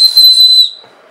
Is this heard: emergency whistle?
yes